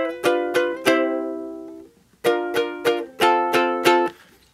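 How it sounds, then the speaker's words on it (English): A ukulele strummed in short bursts, each stroke carrying a percussive knock of the hand hitting the instrument's body, with a gap between two groups of strums, close and clear with no voices. "You can hear I keep hitting the body of it every time I strum."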